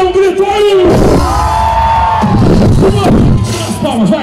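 A rodeo crowd yells and whoops loudly at close range, with a sustained mass of raised voices and drawn-out shouts rising and falling.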